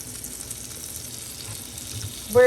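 Blackened chicken searing in a hot pan gives a steady, close sizzle and hiss throughout, ending with a brief louder clatter.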